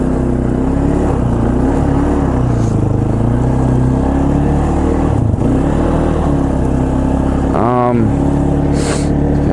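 2005 Polaris Predator quad, freshly repaired with a new head gasket and valves, running steadily under a loud engine drone during a test ride, its pitch rising and falling with throttle, wind noise throughout and a brief voice near the end.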